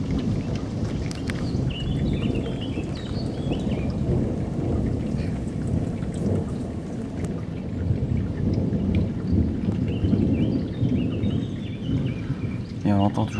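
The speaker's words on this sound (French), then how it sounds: "Et on entend toujours le tonnerre." Thunder rumbles through steady heavy rain during overnight storms in Amboise, France, with wind and pattering drops filling the background the whole time.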